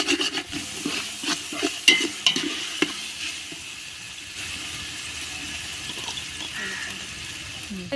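Ginger garlic paste stirred with softened onions in a pan, with soft scraping and sizzling strokes in an irregular rhythm, a few sharper knocks early on, then a steadier low frying hiss.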